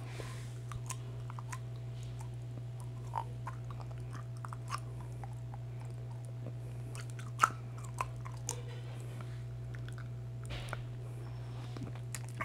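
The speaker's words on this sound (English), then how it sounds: "You're just going to pop it in and chew it like gum." An orthodontic aligner chewie being chewed between the teeth, giving soft, irregular squishy clicks and bites close up over steady background hum, with no talking.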